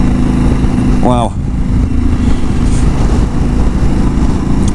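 A motorcycle engine drones steadily and loudly while climbing a foggy hill road in the dark, with heavy rumble and wind throughout, and a brief rising whine near the start.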